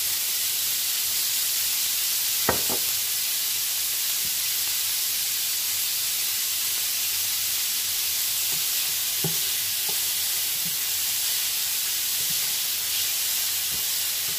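Meat sizzles in oil in a pan while a keto Chinese fried rice dish is cooked, a steady close hiss and crackle with a few sharper pops, no talking.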